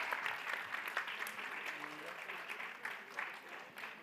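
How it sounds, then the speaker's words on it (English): Applause from an audience at a quiz session, moderately loud clapping that swells and fades, with a voice briefly heard over it. "Give a round of applause."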